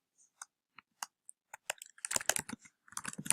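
Keys on a computer keyboard are tapped, sparse and separate at first and then speeding into a quick burst of close, crisp clicks.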